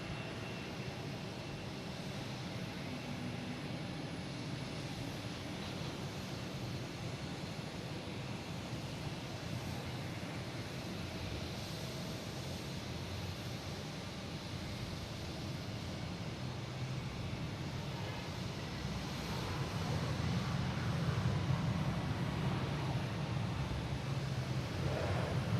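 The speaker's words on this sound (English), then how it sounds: "we have United Airlines coming in from Chicago" A United Airlines Boeing 737 MAX 9 from Chicago lands at Boston Logan, a long, even jet rumble at moderate distance that swells a little louder toward the end, with light wind noise and no talking.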